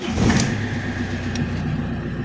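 Alfa Romeo 156 JTD 8V 110hp diesel engine running steadily, a close, continuous low rumble with a brief louder swell near the start and no talking.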